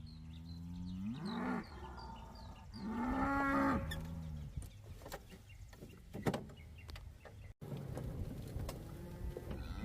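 Cows in a farm herd moo repeatedly, a few long lowing calls near and loud at first, then quieter rustling and shuffling sounds of the animals moving in the open.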